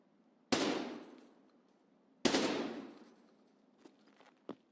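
A mounted machine gun in the Escape from Tarkov video game fires two loud, close bursts about two seconds apart, each trailing off in a long echoing decay, followed by faint clanks and footsteps.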